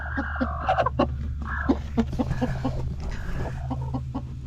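Broody hens give close, repeated short clucks and murmurs in uneven bursts, with a low steady hum underneath.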